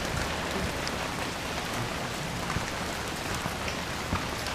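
Steady rain falls as a blizzard moves in, a dense continuous patter on surfaces with no voices and no other sounds over it.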